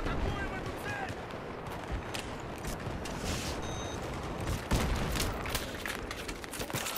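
Battlefield 3 gunfire on Sharqi Peninsula: dense, rapid cracks and bursts of rifle and automatic fire with occasional heavier booms, loud and continuous, with a voice talking over the action.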